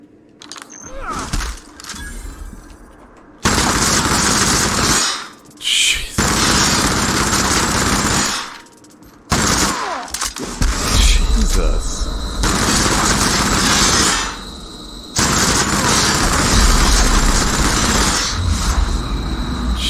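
Video game gunfire in bursts of loud rapid automatic shots separated by short pauses, with players shouting over the action.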